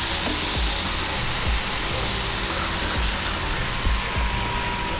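Bumbu gado-gado sauce poured into a hot pan sizzles in a steady, loud hiss that runs the whole time, with soft low thumps and stirring underneath.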